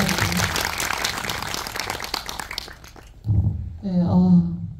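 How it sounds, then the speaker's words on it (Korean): An audience at a Korean film screening and guest Q&A claps in a dense, loud burst of applause that fades after a few seconds, after which a person begins speaking. "박수 부탁드리겠습니다."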